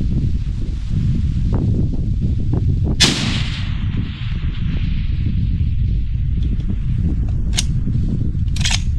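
A gunshot at an outdoor shooting range cracks out sharply once, followed by a few fainter, more distant shots over steady wind and ambient noise.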